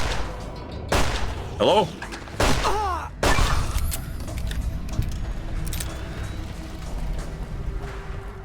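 Grenade explosions and gunfire in the video game Fallout New Vegas, several sharp booming blasts in quick succession with a few short bursts of game sound between them, then fading rumble. A voice speaks briefly.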